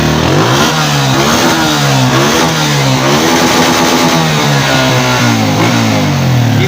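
A 1993 Honda CG125 motorcycle engine, repaired after misfiring and burning too much fuel, revs repeatedly close up, rising and falling in loud, steady pulls over a running idle.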